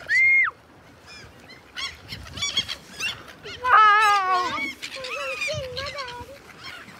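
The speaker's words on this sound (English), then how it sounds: "Oh my god, that's so many seagulls." A flock of seagulls calls outdoors in a park, with repeated yelping and squawking cries rising and falling over several seconds, some close and loud, others farther off, and brief voices mixed in.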